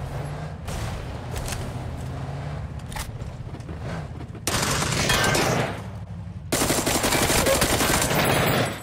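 Heavy automatic gunfire aimed at a tank in a video game arrives in loud, dense bursts, with quieter shots and a running engine beneath them at first, then two long, intense volleys.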